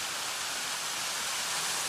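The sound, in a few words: small waterfall at Chengde Mountain Resort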